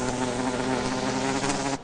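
Bees pollinating commercial tomato plants buzz close and steady, a continuous droning hum that cuts off abruptly near the end.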